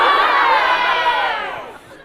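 A live theatre audience at a Chinese crosstalk comedy show cheers and shouts in a loud, bright roar that holds, then fades away toward the end.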